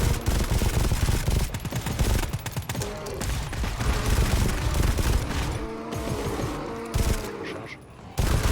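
Sustained automatic gunfire rattles through a fight in the game GTFO, with dense rapid bursts and short pauses, a brief lull near the end, and occasional speech underneath.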